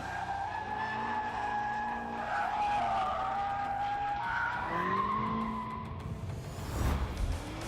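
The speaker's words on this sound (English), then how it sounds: "And it is four-wheel drive drifting." BMW four-wheel drive drifting in The Grand Tour video game, tires squealing in long wavering skids over a steady engine roar, with a brief burst of revving near the end.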